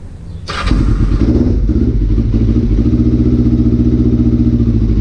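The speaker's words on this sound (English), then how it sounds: "let's get this bike started after that failed attempt just now" A Kawasaki EX-500 motorcycle engine cranks and catches after a failed attempt, then settles into a loud, close, steady idle with a rapid chugging rhythm.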